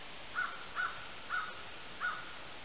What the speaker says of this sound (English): Being visited by crows.